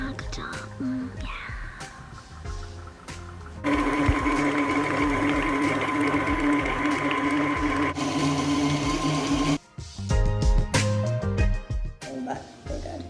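An electric mixer whirs at a steady pitch for about six seconds while beating cupcake batter in a home kitchen, with softer handling noise and quiet voices before and after.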